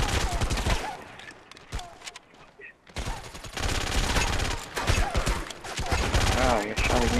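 Gunfire in the online shooter MAG during a Sabotage match, bursts and volleys crackling densely through most of the stretch, briefly thinning out near the middle, with players talking over the shots.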